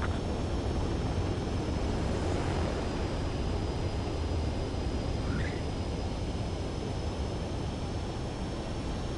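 Jet fighter landing in the combat flight game Ace Combat 7: Skies Unknown, a steady loud broadband engine and wind roar holding level throughout, with a thin high whine over it and no talk.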